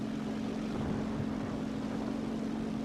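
IL-10 propeller aircraft approaching in a competitive video game match, heard as a steady, low, humming engine drone that stays even and fairly quiet throughout, with no talking.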